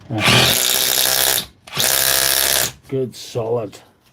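A Dewalt or Milwaukee power hammer runs close up under repair testing, in two long, loud, buzzing bursts with vibration, followed by a few shorter stuttering pulses.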